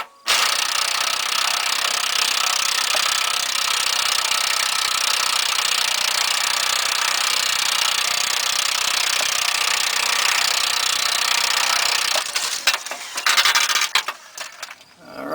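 Working on the upper control arm of a 2004 Ford Explorer, a power tool rattles and hammers without a break at close range while taking out a bolt, then stutters and stops near the end, followed by a few clanks.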